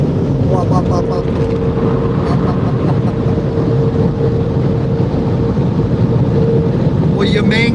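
Car dryer blowing air over a car, a loud, steady roaring rush that runs unbroken throughout, with a person talking over it.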